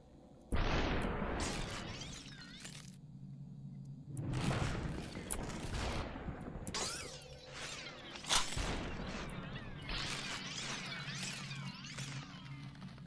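Gunfire crackles in a video game in several bursts of sharp, punchy shots, spread across the clip with brief lulls between volleys, fairly loud and close.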